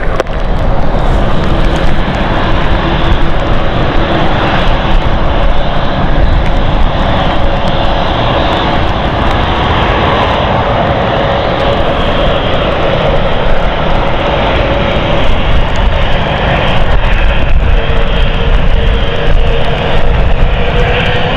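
A KLM airliner lands at London City Airport on a stormy night, its loud, continuous engine roar close by and sustained throughout, mixed with gusty wind noise and no voices.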